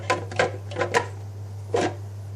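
The plastic lid of a vacuum cleaner's filter box snaps shut in a handful of sharp, close clicks over a low, constant hum.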